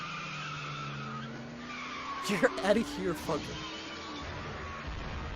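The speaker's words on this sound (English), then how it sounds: "that's a car crash." A car skids with squealing tires and a rumbling engine, a brief loud burst over steady background noise while someone talks over it.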